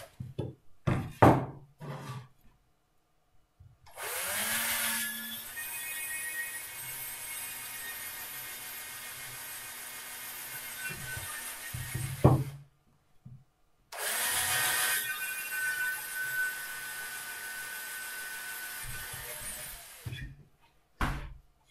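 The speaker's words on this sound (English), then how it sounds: "Never apply too much pressure with the 2 millimeter bits. They have a tendency to snap pretty easily." A small power drill with a 2 mm bit bores pilot holes in the wood of a birdbox. Two sustained whirring bursts are separated by a pause, with knocks and handling clatter between them.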